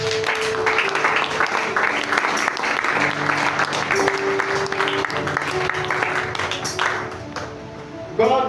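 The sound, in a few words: congregation applauding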